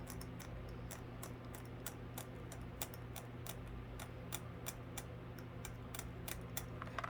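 Small, sharp clicks and scratches come in an irregular run as an X-Acto knife cuts across a craft gnome's beard, close and fairly quiet over a steady low hum.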